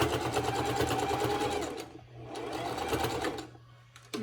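A sewing machine runs fast, stitching a quarter-inch seam on a cloth face mask. The close, rapid mechanical whirr pauses briefly partway through, then starts again.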